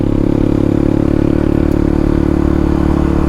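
Honda Trail 125 motorcycle fitted with a Yoshimura Cyclone full exhaust climbing uphill, its loud, steady engine note close by with a constant throaty drone and no talking.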